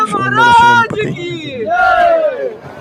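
A festival crowd shouts a Ganpati Bappa Morya chant together at a Ganesh pandal with a 30-foot idol, loud, close voices rising and falling in a continuous group cry.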